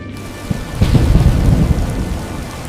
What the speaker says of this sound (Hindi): आसमान में घने बादल छाए हुए थे और जोरों की घनघोर बारिश हो रही थी।